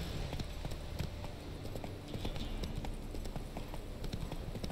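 Horse hooves clip-clop in a steady riding rhythm in The Witcher 3, close and moderately loud against a busy game ambience with no talking.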